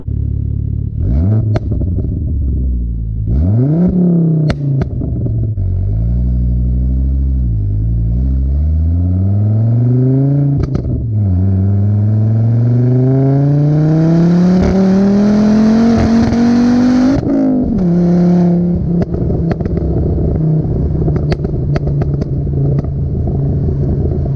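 A 400hp Volvo wagon accelerates hard in repeated pulls, its engine droning and rising in pitch through the gears, heard loud and close from inside the car, with sharp exhaust cracks and pops on lift-off between pulls.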